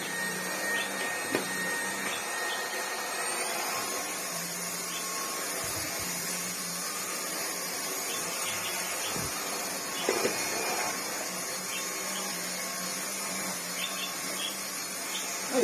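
Greenote GSC60 cordless vacuum cleaner running steadily on a rug, a constant whirring hum with a few small bumps as it moves.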